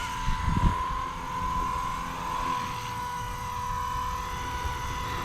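A Blade 230s RC helicopter flying outdoors, its steady high-pitched rotor and motor whine holding constant, with a brief low thump near the start.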